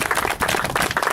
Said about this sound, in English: so let's clap that up.